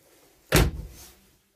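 A bathroom door in a Chausson X 550 camper van shuts with one sharp, close knock, followed by a brief rattle that fades to quiet.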